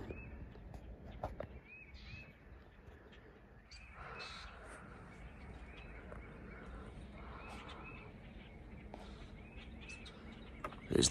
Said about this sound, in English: There's the birds up there.